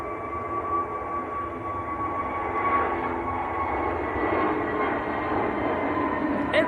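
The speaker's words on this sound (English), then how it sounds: "Pegasus, A321neo is getting airborne" A Pegasus Airbus A321neo lifts off at Manchester Airport, heard as a steady, moderately distant engine roar with a faint whine that swells slightly as it climbs.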